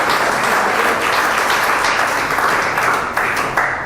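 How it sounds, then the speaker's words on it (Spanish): A church congregation at a convention in Medellín, Colombia breaks into loud, dense applause, many hands clapping in a continuous roar that holds steady throughout. "Denle un fuerte aplauso al Espíritu Santo por eso."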